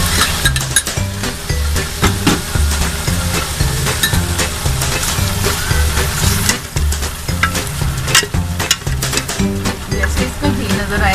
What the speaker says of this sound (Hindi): ये आधे कप से कम दही इसमें जा रहा है। इसे मैं थोड़ा सा चला के भून लूँगी।